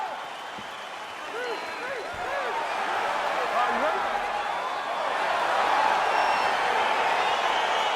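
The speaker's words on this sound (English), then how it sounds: "crowd getting excited as this fight gets underway" Arena crowd in the EA Sports UFC 4 video game rumbling and cheering as a fight begins, a steady broad roar that swells slightly toward the end, with scattered shouts and whoops mixed in.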